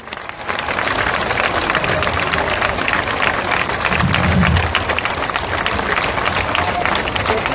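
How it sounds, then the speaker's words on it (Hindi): Sustained loud applause from a large audience at a Jan Suraaj party political rally, a dense steady wash of clapping lasting throughout with crowd noise and a brief low swell midway, no clear speech over it. "जोर से ताली बजाइए।"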